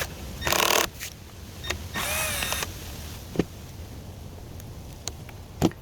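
Power tool whirring in short bursts while removing the four battery screws on a Smoosat electric scooter, two longer drill runs followed by scattered clicks and taps, close and fairly loud.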